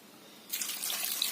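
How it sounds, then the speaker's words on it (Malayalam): Water pours steadily into a pot of cut drumstick pieces for a mango and drumstick curry. It starts abruptly partway through as a close, hissing rush that keeps going to the end. "വെള്ളം ഒഴിച്ച് അടുപ്പത്ത് വെച്ചു."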